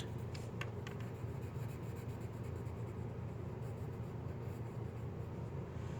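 A blender pencil rubs steadily over paper while shading soap bubbles in a coloured-pencil drawing, a soft continuous scratchy hiss with a few faint taps, heard close over a low background hum and without talk.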